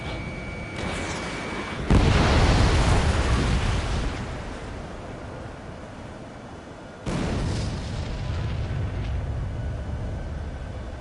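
A missile striking its target in a PS4 video game, with a heavy rumbling explosion that bursts in loudly and slowly fades, followed a few seconds later by a second deep boom that rolls on steadily.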